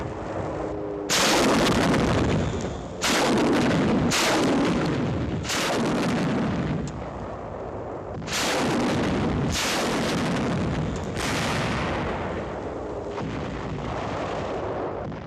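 Warships fire a naval shore bombardment in 1945 newsreel footage, a series of about seven loud booming blasts at uneven intervals, each with a long rumbling decay, and no talk.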